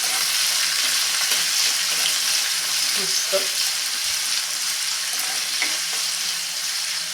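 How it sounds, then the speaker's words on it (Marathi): Grated ginger sizzles steadily in a hot pan with lentils, a continuous frying hiss with soft scraping stirs near the middle, close and fairly loud throughout. "यामध्येच घालते खिसलेलं आलं साधारण अर्धा इंच आलं आहे किसून घेतलेलं आहे हे मिक्स करून घेऊया"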